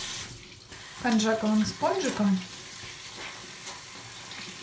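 Tap water runs steadily while a face is rinsed clean of a mask, with someone speaking briefly over the gentle splashing.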